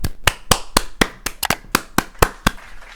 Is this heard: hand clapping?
yes